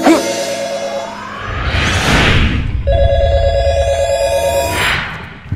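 An office telephone rings loudly in two long, steady electronic ring tones, each ending in a whooshing swell, with no voices.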